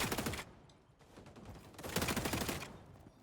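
Gunfire in the shooter game XDefiant: two dense rapid bursts of shots, fairly quiet and slightly distant, separated by a short lull, with no talking.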